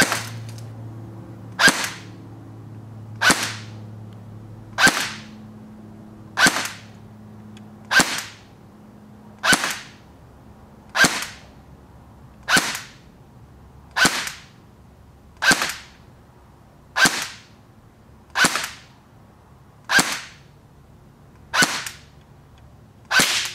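Steady semi-automatic shots from a G&G FN SCAR airsoft rifle, about fifteen sharp cracks evenly spaced roughly every one and a half seconds, close and loud with no talking.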